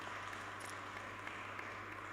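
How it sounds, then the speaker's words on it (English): Applause from a church congregation during a live-streamed community service, steady and fairly faint over a low constant hum, with no voices. "definite round of applause."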